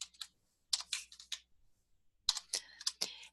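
Code typed on a computer keyboard: two quick bursts of crisp key clicks separated by a silent pause, close and fairly quiet.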